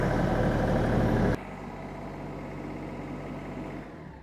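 A tractor engine idles steadily while warming up before snow plowing, a loud close rumble that drops to a lower, quieter idle partway through and then holds even.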